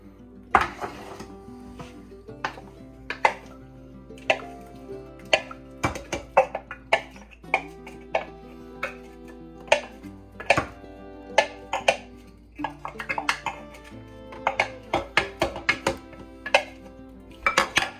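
A spoon or utensil stirs chopped onion into homemade salsa in a bowl, giving irregular clinks and scrapes, close and clear, in uneven bursts with short pauses.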